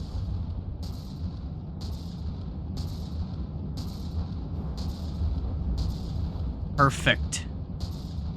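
Rotary cannon firing in the game From the Depths, a steady series of regular booming shots about once per second over a low rumbling background, with a short spoken word near the end.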